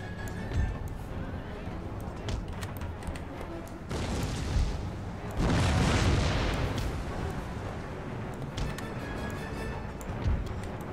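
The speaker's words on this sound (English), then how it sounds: "Focused my howitzers and my artillery onto this separate unit of line." Howitzers and artillery firing in the Empire Total War strategy game, heard as a dense rumble of booms and cannon blasts that swells to a loud sustained barrage mid-clip, with a voice talking over it.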